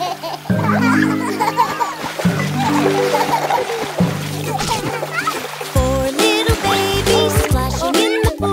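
In an animated nursery rhyme, babies splash in a pool: bursts of splashing and sloshing water alternate with a sung melody, with childlike giggles and voices layered over the music.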